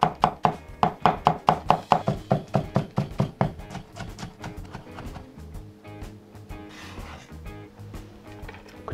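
A knife chops shrimp for har gow dim sum filling on a cutting board, tapping in quick, steady knocks about five times a second. The chopping then fades into softer, scattered kitchen sounds.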